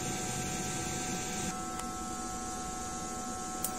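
An A3 DTF printer runs steadily with a constant mechanical hum and whir, its tone shifting partway through, plus a couple of faint clicks.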